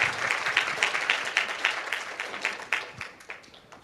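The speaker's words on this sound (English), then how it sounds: "Please big applause for the warmly welcome." A keynote conference audience gives a modest round of applause to welcome the speaker, a scattering of individual claps at moderate distance that gradually thins out.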